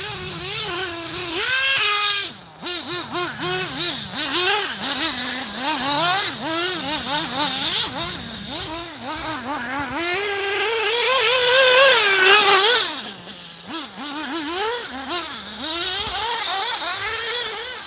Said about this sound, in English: But the nitro, man, I like the sound is incredible.